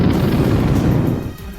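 Night-time airstrike explosions over Gaza roll as a loud, deep, sustained rumble that fills the whole moment and fades slightly at the end, with no voices.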